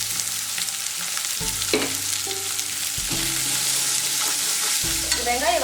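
Sliced onions and green chilies fry and sizzle in a hot pan for potato masala curry. A steady crackle runs throughout, broken by a few scraping stirs and bumps of a spoon against the pan. No one speaks.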